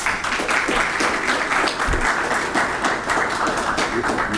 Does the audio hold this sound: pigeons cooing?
no